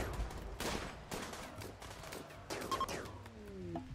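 Rapid bursts of gunfire during a raid in the video game RimWorld, repeated shots and volleys crackling in quick succession, moderately loud over a busy game soundscape.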